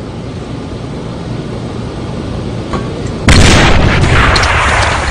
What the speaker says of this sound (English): Glock throwing out some nades there and some smokes